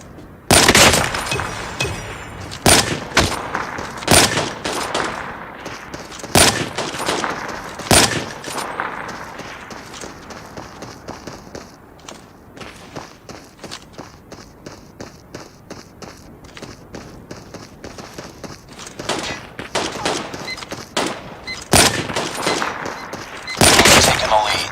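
Gunfire in Call of Duty Mobile, with loud sharp bursts of shots recurring throughout, mixed with in-game footsteps and running, close and punchy over a busy game background with some talk.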